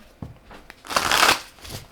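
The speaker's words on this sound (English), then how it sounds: "We're gonna do one more shuffle for here" Tarot and oracle cards are shuffled by hand, a few soft taps followed by a brief loud riffling burst and a final light tap, close up and without talk.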